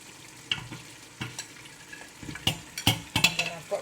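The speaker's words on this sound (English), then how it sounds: "So beef is going in." Beef pieces dropped into a pot of Nigerian efo riro vegetable stew, a few soft thuds and clatters with a light sizzle and utensil scrapes, close by, building toward the end.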